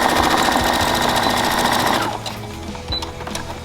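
A sewing machine stitches an elastic sock onto a pro wrestling kick pad boot, a loud, rapid mechanical chatter for about two seconds that then stops, leaving quieter handling clicks.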